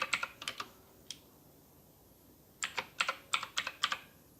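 Keystrokes on a Redragon K580 Vata RGB mechanical gaming keyboard as a macro is typed in: two quick bursts of crisp, close clicks separated by a lone tap and a short pause, with no talking.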